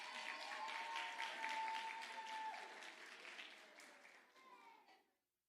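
Applause from a school science fair crowd after the winners are announced, a steady wash of clapping that fades out near the end, quiet and somewhat distant, with a faint voice briefly over it.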